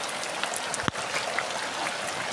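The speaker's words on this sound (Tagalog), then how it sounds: "ulan na oh" Rain beginning to fall outdoors beside a river, a faint, steady hiss of light patter with one sharper nearby drop and no voices.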